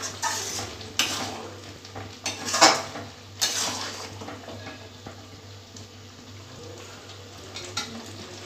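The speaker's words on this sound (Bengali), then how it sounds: "আমি একটু নেড়ে নিচ্ছি।" A spoon scrapes and clanks against a cooking pot while a thick mung dal ghonto with chopped coriander is stirred, several sharp metallic knocks over a soft background sizzle.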